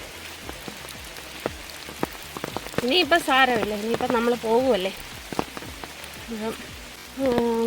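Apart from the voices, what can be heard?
rain in the forest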